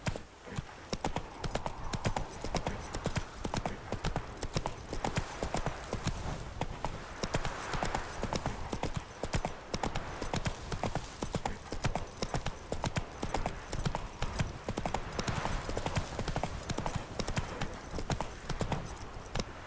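Steady clip-clop of a horse's hooves while riding in The Witcher 3, a dense, continuous galloping rhythm with a broad wash of ambient game noise beneath and faint voice fragments.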